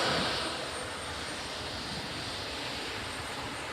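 A fixed-wing aircraft's engine drones steadily during a flying display at the Farnborough International Airshow, a loud continuous roar with a slightly louder start that stays even throughout.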